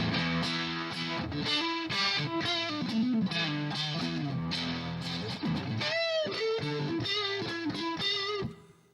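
A distorted electric guitar on the neck pickup plays a busy riff with sustained, chorus-tinged notes, loud and close, ending with a fading final chord.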